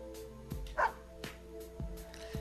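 A dog barks in short, sharp yips in the fighting game Persona 4 Arena, several spaced out over a couple of seconds, against a steady electronic game music backdrop.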